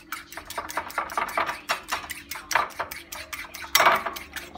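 An egg beaten in a bowl for an omelette-style mix, a fork or whisk knocking against the sides in a fast, regular clatter of close taps, with no voices.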